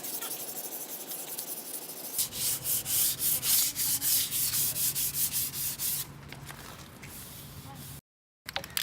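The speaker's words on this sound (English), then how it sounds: "so I can wet sand it with 500 grit sandpaper" Rhythmic back-and-forth strokes of 500 grit wet sandpaper on cured primer on a car body, close and steady for about four seconds, then softer rubbing.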